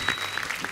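A studio audience applauds on a comedy talk show to welcome a singer and an actress, a brief burst of clapping heard alone.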